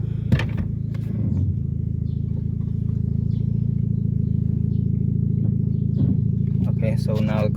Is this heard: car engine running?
yes